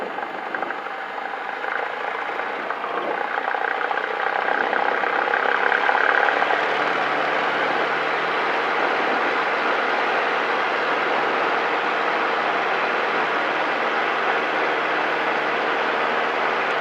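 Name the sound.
Cessna 172 engine during takeoff roll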